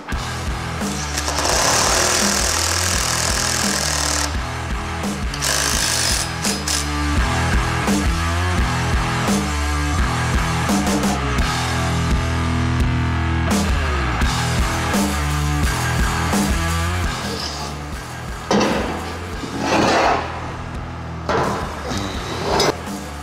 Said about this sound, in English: Impact drill.